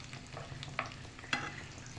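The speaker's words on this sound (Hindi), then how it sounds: "अंदर तक ये खूब बढ़िया से फ्राई हो जाए।" Potato and cabbage cutlets fry in a pan with a soft, continuous sizzle, punctuated by two brief utensil clinks as they are turned, close but fairly quiet, with no voices.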